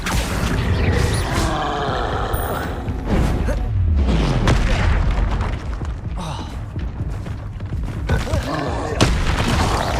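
Heavy booming blasts from the Confringo spell in Hogwarts Legacy, several loud explosive thuds and crashes in quick succession amid busy combat effects.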